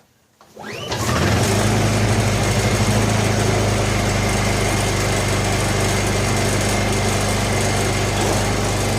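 A Honda EU2000i inverter generator with choke on pulls to life after a brief quiet start, then runs steady and loud with a high-pitched engine drone, no talking over it.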